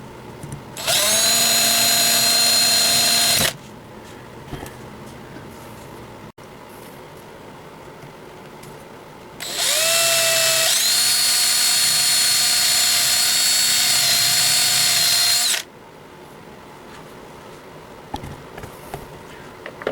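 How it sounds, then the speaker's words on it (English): A small drill bores into a metal post on a Corgi Bedford CA model van, two loud high-pitched whining bursts of a few seconds each separated by quiet pauses. "you can start the drilling of the post"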